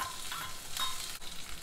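Onion and a couple of dried red chillies with a few fenugreek seeds frying in hot oil in a pan, a steady close sizzle with a brief stirring scrape partway through.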